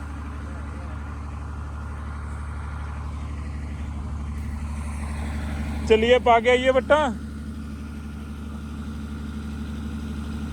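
A Leyland diesel generator idles with a steady, loud low drone throughout, while nearby voices speak briefly over it.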